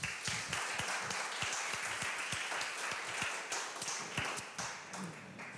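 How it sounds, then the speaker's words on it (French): An audience applauding at a tech conference talk, a burst of many hands clapping at a steady rhythm that carries on for several seconds, moderately loud in a room. "Donc je pense qu'on peut l'applaudir."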